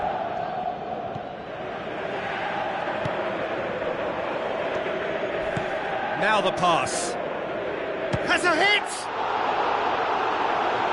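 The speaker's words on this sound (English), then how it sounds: "Crowd reaction tells you just how close that was." A stadium crowd roars in a football video game played on PS4, a steady wash of cheering that swells and surges as a commentator talks over it.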